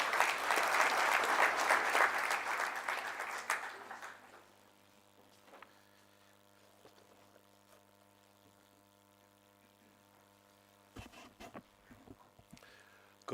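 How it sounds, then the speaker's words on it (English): Loud audience clapping at a university public lecture rings out for about four seconds and then stops, leaving a quiet room with faint hum and a few scattered small noises. "Clap for him."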